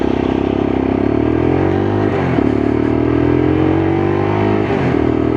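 Lexmoto LXR E55 125cc motorcycle ridden on a sunny road, its engine droning steadily and loud with a brief dip in pitch around a gear change before pulling on again.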